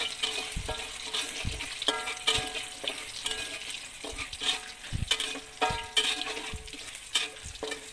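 Bakso meatballs frying in hot oil with a continuous crackling sizzle while a utensil stirs and scrapes the pan, irregular clinks and knocks recurring throughout, close and moderately loud with no talking.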